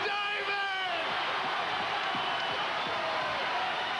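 A ringside wrestling crowd roars continuously, a dense loud wash of cheering and shouting that never lets up, with a commentator's voice audible in the din early on.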